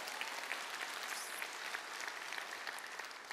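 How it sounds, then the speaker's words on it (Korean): An audience applauding at a talk, a dense, fairly faint wash of clapping that holds steady the whole time with no voices over it. "박수 칠 거면 힘차게"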